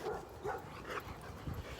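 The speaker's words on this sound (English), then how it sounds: "this doggy behind the fence is going quite crazy" Dog going wild behind a fence during an off-leash walk: a few faint, distant barks and yips scattered over a quiet outdoor background, with no one talking.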